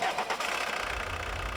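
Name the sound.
Volkswagen Golf 1.9 litre turbo diesel engine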